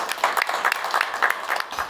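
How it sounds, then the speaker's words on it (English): Applause from an audience at a Native Food Day cooking contest, honoring the winners, with steady light clapping across the whole stretch, moderately distant and even. "In absentia, we give them a big round of applause"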